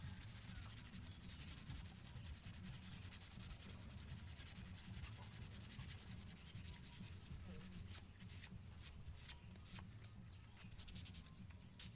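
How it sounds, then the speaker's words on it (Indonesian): 800-grit sandpaper is rubbed along the sharpened tip of a homemade fish spear, a faint steady scratchy rasp in quick repeated strokes, with no talking. "Kita gunakan amplas ukuran 800 ya teman-teman, biar lebih halus."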